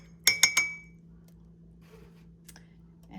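A spoon clinks three times quickly against a glass while stirring collagen peptides into coffee, bright close taps followed by a faint hum and a softer clink.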